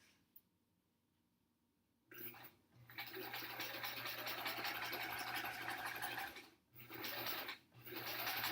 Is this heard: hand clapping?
no